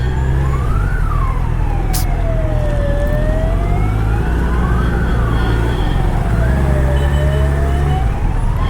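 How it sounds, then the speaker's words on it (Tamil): An ambulance siren wails loudly and continuously through heavy traffic near the Ukkadam flyover in Kovai, sweeping up and down in slow, repeated cycles over a steady low engine and road rumble. "இன்னொரு ஆம்புலன்ஸ் வேறு பின்னாடி வருது."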